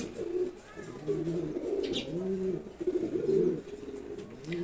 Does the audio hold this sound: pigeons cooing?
yes